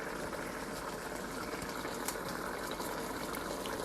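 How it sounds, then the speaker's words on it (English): Chicken curry boils hard on high heat, its liquid bubbling off in a steady, dense sizzle and crackle that stays close and constant throughout. "I'm burning off my water"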